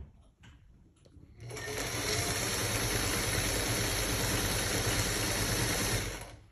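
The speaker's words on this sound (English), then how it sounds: "You see the machine in action. I got a classic singer right here" A classic Singer sewing machine starts up and runs steadily, stitching with a continuous close whirring hum and fast mechanical rhythm for about five seconds before slowing to a stop.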